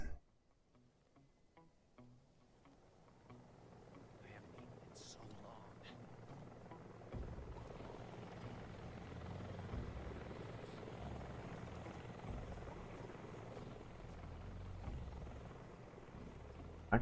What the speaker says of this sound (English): Helicopters are infamous loud.